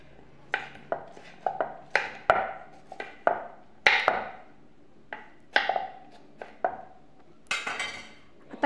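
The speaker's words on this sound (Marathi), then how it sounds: "कोथिंबीर बारीक चिरून घ्यायची, आणि हा टोमॅटो बारीक चिरून घ्यायचा" Coriander and tomato finely chopped with a knife on a board, a close series of sharp, irregular cuts in quick bursts with short pauses, no talk.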